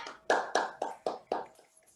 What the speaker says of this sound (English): When I say clap, clap your hands.